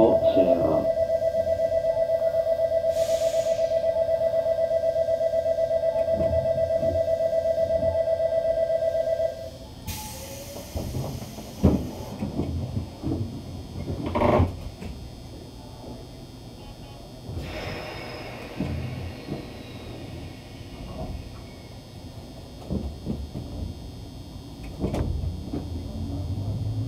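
A steady door-closing chime tone plays for several seconds, then the doors of a Nagano Electric Railway 1000 series limited express slide shut with a thud, followed by rumbling, clattering cabin noise.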